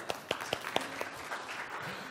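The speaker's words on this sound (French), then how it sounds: "Applaudissements pour Olivier Rouland, s'il vous plaît" A small conference audience applauds a speaker, a handful of distinct close claps at the start blending into lighter scattered clapping that tapers off over about two seconds.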